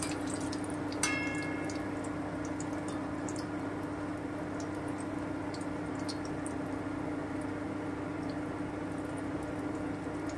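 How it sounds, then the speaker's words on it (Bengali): Palm-fruit malpoa batter frying in hot oil until lightly browned, giving a steady, faint, continuous sizzle with soft bubbling throughout and no voices. "হালকা ব্রাউন করে ভাজবো,"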